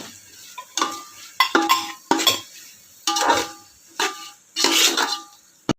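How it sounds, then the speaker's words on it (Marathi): Masala for prawn biryani stirred in a metal pot, a series of close, uneven scraping and clanking strokes of a spoon against the pot with faint sizzling between them. "आता आपण मिक्स करून घेऊया."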